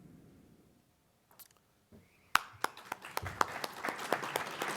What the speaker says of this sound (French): il y aura la preuve que vous avez applaudi